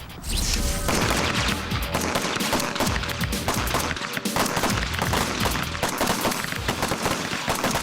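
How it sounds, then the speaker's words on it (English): Rifle gunfire at training targets on a range, a dense run of loud, close shots fired in quick double taps with almost no pause between bursts. "You're going to be firing double taps. It's 2 rounds, okay, followed by another 2 rounds"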